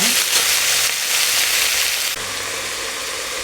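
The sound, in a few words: broad bean pieces frying in a pan for curry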